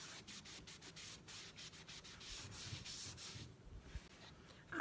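Steady dry rubbing of a Prima transfer being pressed onto a cabinet door, a continuous close scratchy friction with repeated strokes throughout.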